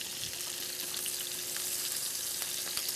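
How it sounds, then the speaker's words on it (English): Salmon sears in butter in a pan, giving a constant bright hiss and crackle with a few small pops, close and unbroken, no talking. "I can see that the salmon is cooking"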